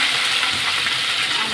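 Tomatoes hitting hot oil in a frying pan while an aloo potol dum is cooked, giving a loud, dense, steady sizzle that holds without a break for the whole stretch, with no talk.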